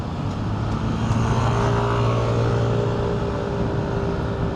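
A new Yamaha XSR 155 motorcycle, ridden gently for break-in on the Plaridel Pulilan Bulacan bypass, gives a steady, close engine drone. The drone sits under constant road and wind rush with no clear revving.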